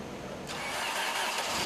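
Car engine cranking and then catching on cold, thick 10W30 oil, a faint steady churn of the starter before the engine fires and settles into a sustained, louder running roar, with no talking.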